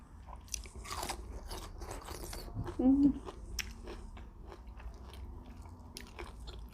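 Someone eats tom yum tilapia with sticky rice, with close crunching bites and chewing, while a voice speaks over the eating.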